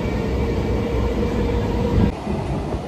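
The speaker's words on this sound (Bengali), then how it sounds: "কেবলই ট্রেনটা নৈহাটি থেকে ছেড়েছে" A moving passenger train just departed from Naihati toward Krishnanagar rumbles steadily from inside a carriage, a loud continuous roar with faint rhythmic rattling.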